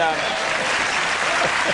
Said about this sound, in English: Thanks for acknowledging that with applause.